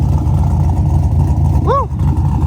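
A Mazda RX-7 with a swapped LS3 V8 and an aggressive cam idles with a loud, steady, lumpy rumble, close up, with a brief rev near the end. A voice is heard over it.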